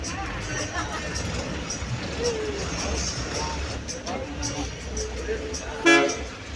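Bus horn honking during a ride from Pondicherry to Villupuram, a short sharp toot near the end over steady engine and road noise, with people talking aboard.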